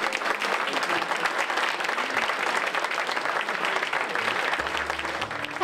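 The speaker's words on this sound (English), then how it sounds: "They really deserve a round of applause" Sustained audience applause fills a senior chef cook-off competition, dense steady clapping from a crowd holding at an even level throughout with faint voices mixed beneath.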